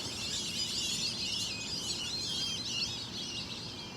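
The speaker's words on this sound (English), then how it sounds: "Oh, it's birds." Birds chirp and call continuously outdoors at dusk, a dense, fairly faint chorus of high twittering over a low background hiss, with no one talking.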